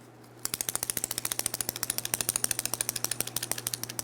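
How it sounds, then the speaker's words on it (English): A bottle of touch-up paint for a 2004-2005 Scion xB is shaken hard, its rattle clicking in a fast, steady rhythm of sharp, close knocks over a faint low hum, with no talking. "The first thing you want to do with your paint is make sure you shake it up for at least 1 full minute."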